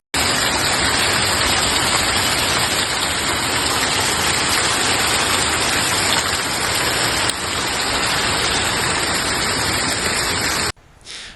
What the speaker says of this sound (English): The heavy rain that hit Adana turned roads and lanes into lakes.